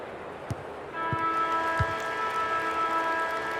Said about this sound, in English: the natives are restless as the halftime siren sounds here